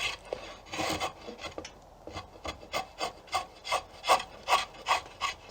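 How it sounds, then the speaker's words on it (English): A sharp draw knife scrapes bark from a wooden self bow in short, rasping strokes, close and fairly regular, with a brief pause early on and no speech. "I'm just using the lightest possible touch with a sharp draw knife to scrape away that outer bark."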